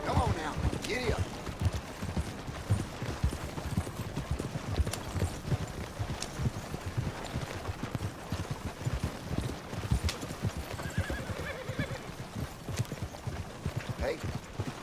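Horse hooves clip-clop in the Red Dead Redemption 2 video game, a steady run of moderate hoofbeats over a soft outdoor backdrop with occasional faint sounds, with no talk over them.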